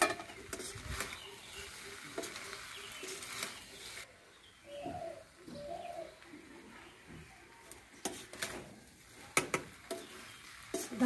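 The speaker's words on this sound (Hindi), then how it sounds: "धनिया को भी डालकर अच्छे से मिला लिए इसमें" Sabudana khichdi with chopped tomatoes and coriander is stirred in a pan, giving intermittent scraping and shuffling strokes, while doves or pigeons coo softly in the background.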